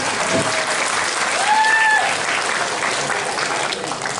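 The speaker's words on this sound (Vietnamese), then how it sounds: "Rồi các bác vỗ tay cho con lên tinh thần để mà cái đọc tiếp nha." Audience applause fills the room at a meditation group gathering, a steady, dense clapping that runs without a break, with a faint voice briefly rising over it.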